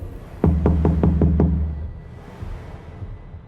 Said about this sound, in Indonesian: Suara ketukan pintu itu masih bisa aku dengar.